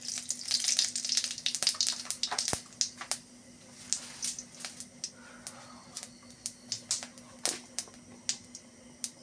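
White cumin seeds crackle in hot oil in a heated kadai, popping and spitting in quick sharp bursts that thin into scattered pops over a low sizzle, with a faint steady hum underneath.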